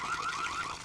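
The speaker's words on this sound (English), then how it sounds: "it shows a leak is detected. The alarm's going off" A water leak detector alarm beeps in a rapid, rising warble, loud and alone for under a second.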